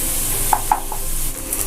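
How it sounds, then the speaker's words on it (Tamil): Onions with ginger garlic paste sautéing in a pan, a steady soft sizzle with a few light taps of a spoon stirring, close and without talk. "வெங்காயம் வதங்கும் போதே இஞ்சி பூண்டு பேஸ்ட் 1 ஸ்பூன் அளவு இதையும் சேர்த்து வதக்கிக்கோங்க"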